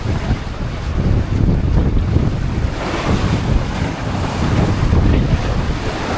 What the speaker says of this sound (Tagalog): Maalon ng karagatan ngayon